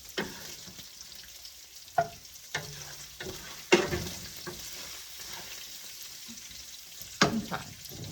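Cooked sausage sizzling in a skillet over medium heat, a quiet, steady frying hiss punctuated by several sharp clacks and scrapes of a utensil against the pan, with no voices.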